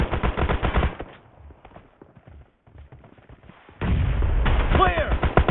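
Rapid bursts of automatic gunfire from a PUBG team deathmatch, loud and close, dropping to sparse, quieter shots before a heavy, sustained barrage resumes.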